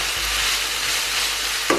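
Cheese steak filling for a stromboli, seasoned with mozzarella, stirred in a hot frying pan, a steady loud sizzle with faint scraping of the stirring and a brief clink near the end.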